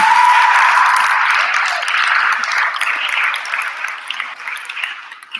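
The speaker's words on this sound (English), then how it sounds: "please give another big round of applause for our team" Crowd applause at an Eastwood Knolls 8th grade awards ceremony, loud at first and gradually thinning out over five seconds, with a brief ringing tone near the start.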